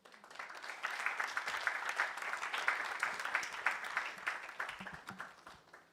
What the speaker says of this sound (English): Look at how you are clapping.